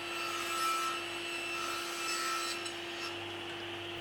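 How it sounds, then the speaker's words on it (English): Hand sawing through plywood, ripping a sheet into long strips: a steady continuous rasping drone, fairly faint and close, with no voices. "I started by ripping down the cover sheet of plywood into 2 long strips."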